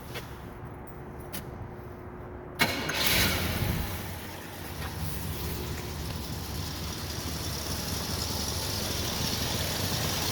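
A 1973 Buick LeSabre sedan with HEI ignition fires up after a short crank, then settles into a steady, smooth idle with a broad low rumble that continues to the end.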